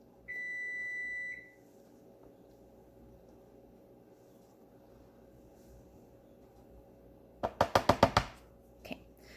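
An oven at home gives one clear, sustained electronic beep near the start. Silence follows, then a quick burst of sharp knocks or taps close by.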